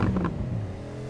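A car engine revs in a shooter video game, a loud, close burst of acceleration in the first quarter second that settles into a steady low drone.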